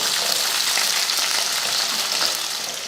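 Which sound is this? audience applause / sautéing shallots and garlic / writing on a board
sautéing shallots and garlic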